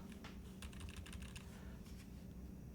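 Rapid clicky keystrokes on a small freshly built custom mechanical keyboard with RGB lighting and a tiny shift key, close and steady, with bursts of faster typing and no talking.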